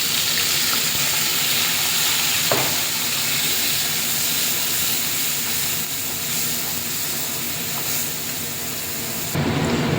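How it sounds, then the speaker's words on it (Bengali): Coriander leaves fry with garlic in hot oil, giving a loud, steady, close-up hiss that runs unbroken for the whole stretch, with no voices over it. "দেখতে পাচ্ছ ধনে পাতাটা আস্তে আস্তে তেল ছাড়ছে, পুরো ভাজা হবে।"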